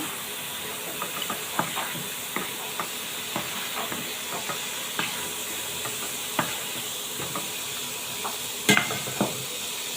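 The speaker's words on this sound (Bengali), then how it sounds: "এবার চিংড়ি মাছটা ভেজে নেব" Prawns frying in a pan for a potol-prawn curry give a steady, moderately loud hiss, broken by scattered clicks and short scraping stir strokes, with one sharper clatter near the end and no talking.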